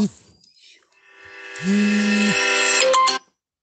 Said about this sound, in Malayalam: Shobi call വിളിക്കല്ലേ live കട്ടാവും